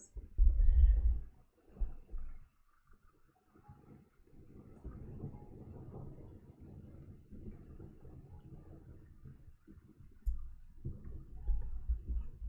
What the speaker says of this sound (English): A thunderstorm is beginning, and I'm hoping you can hear the thunder.